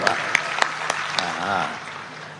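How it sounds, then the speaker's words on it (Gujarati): Sharp, evenly spaced hand claps ring out about five times during a Gujarati comedy performance, with someone talking over them. "હું તમારી માટે હું તાળી પાડું છું"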